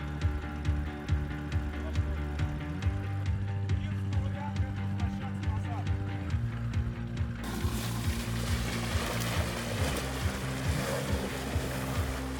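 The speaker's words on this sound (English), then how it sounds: "The electric bike has a decent waterproof, so it managed to cross this river." Electric ATV wading across a river, water splashing and churning steadily around it for several seconds, with a steady motor hum underneath and a rougher, louder wash of water toward the end.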